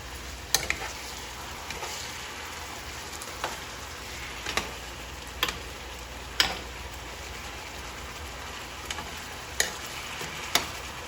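Turkey necks fry in a pot with a steady close sizzle, while a spoon knocks against the pot in sharp clicks every second or so.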